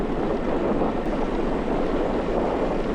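Headwind roaring across the microphone while cycling, a steady broadband rush with low buffeting that persists evenly throughout with no speech.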